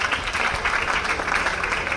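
Audience applause for two relatives at a tribute ceremony honouring Portugalete members of the Basque Auxiliary Navy: a dense, steady wash of clapping that fills the whole short stretch without a pause.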